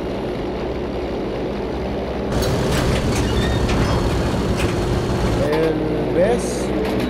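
A Ju88-A bomber's aircraft engine drones steadily in Battlefield V gameplay on the Fjell 652 map, a continuous broad rumble that grows louder partway through while players talk over it.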